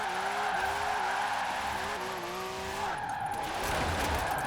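Budget classic supercar drifting in Forza Horizon 4, a loud engine held high in second gear with wavering revs and shifts, joined by screeching tire skids, heard without talk.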